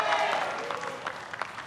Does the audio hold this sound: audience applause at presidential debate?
yes